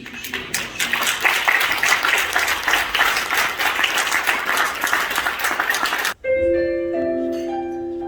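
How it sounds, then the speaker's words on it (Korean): Loud, dense applause from a church congregation fills a large worship hall for several seconds, a steady roar of many hands that cuts off abruptly, followed by sustained musical tones. "박수를 좀 세게 쳐주시기 바랍니다."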